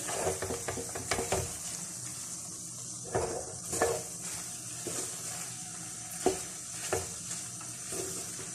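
Fried bitter gourd pieces stirred into sizzling minced meat in a pan, with a steady frying hiss broken by repeated scraping and clinking strokes of the spoon against the metal, close up and with no voices.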